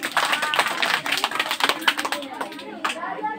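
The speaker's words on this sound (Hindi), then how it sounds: "एक बार इसके लिए ताली बजा दो।" Children clapping in a classroom, a quick burst of many close overlapping claps that fades as a voice talks over it.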